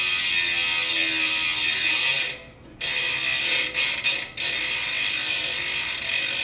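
A DT Swiss 350 bicycle hub with a 54-tooth star ratchet freewheeling, giving a loud, fast, continuous buzzing click up close, interrupted by a couple of brief pauses where the wheel slows and is spun again.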